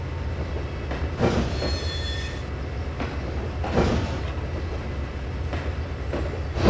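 Train approaching in a rail simulator game: a continuous low rumble with periodic wheel clanks and a thin metallic squeal partway through, steady and moderately loud, no talk.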